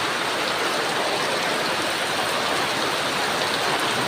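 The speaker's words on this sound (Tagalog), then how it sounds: "grabe ang ulan, guys." Heavy rain pours outside a backyard where chickens are kept, a dense, steady, loud hiss of water with no pauses or voices.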